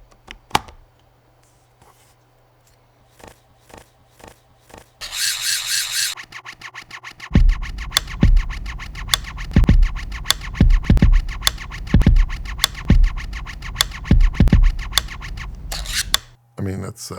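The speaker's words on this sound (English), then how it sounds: "there's an extremely satisfying thunk when you insert the filter and lock it" A RED PL mount electronic ND filter being inserted and locked, scattered sharp clicks and then a run of heavy scraping thunks and metallic knocks, close up and dry.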